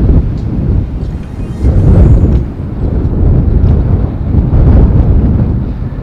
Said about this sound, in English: Damn, it's so windy out here.